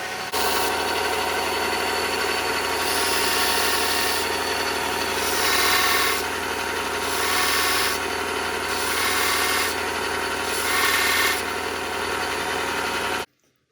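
A file rasps across forged steel spur tines to true them up, a continuous gritty scraping with several slower swells of stroke intensity over a steady background hum, close and alone before stopping abruptly.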